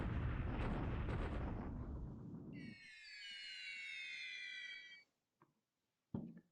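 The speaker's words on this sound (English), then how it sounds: "That's it for the night bombings." Heavy rumbling explosions of a night bombing raid in War in the Pacific roll for a couple of seconds and fade, followed by a high whistling tone, then a few short sharp bursts after a brief silence.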